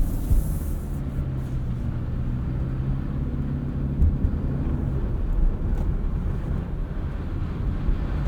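A 2024 Subaru Crosstrek Wilderness on Geolander Geo 15 tires drives through slushy snow, a steady low road rumble and tire noise filling the cabin with no talk.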